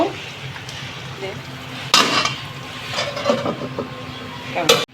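A pan of prawn curry with cumin powder is stirred, soft scraping and faint sizzling running steadily with a few louder clatters of the spoon against the pan, under low background noise.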